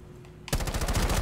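Rapid automatic gunfire in the video game Rainbow Six Siege, a sudden dense burst of fast repeated shots starting after a quiet moment and continuing loudly.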